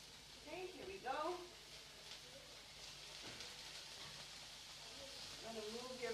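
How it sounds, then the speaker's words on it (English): Paneer cottage cheese sizzling in a hot preheated pan, a soft steady frying hiss running throughout beneath a person talking. "I'm going to pop my paneer onto the pan"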